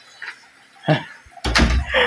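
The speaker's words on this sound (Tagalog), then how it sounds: "Nasasarado ko na po itong pinto." A house door swings shut with a firm thud and rattle, preceded by a faint creak and followed by a louder burst of movement noise nearby.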